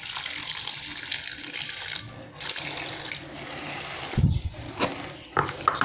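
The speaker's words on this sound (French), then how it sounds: "Je vais ajouter une petite portion d'eau fraîche." Fresh water poured into a pot of peanut and cassava-leaf dish while cooking, a steady splashing pour that fades midway, followed by a few louder sloshes and clanks near the end.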